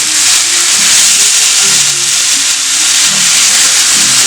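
Fish sliding into a hot wok for a shrimp and pumpkin stir-fry, giving a loud, steady sizzling hiss that runs without a break from start to end, with no talking.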